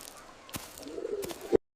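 A white pigeon coos in a low, soft, rounded call that swells over about a second and ends in a brief louder note, with a few faint clicks and rustles around it.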